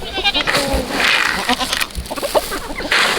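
Several goats bleat close by in overlapping, wavering cries, with farmyard shuffling and clatter in between.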